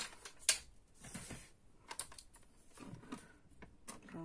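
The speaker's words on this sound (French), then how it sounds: "Donc je vais prendre mon massicot." A paper trimmer being handled on a cramped craft table while making a wedding card: a scatter of light clicks and taps, close and faint, with one sharper snap near the start.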